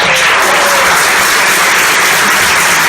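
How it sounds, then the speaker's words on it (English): Loud, close applause from a crowd at a congressional town hall meeting, a thick continuous roar of clapping with no talk over it. "We should applaud them for their professionalism."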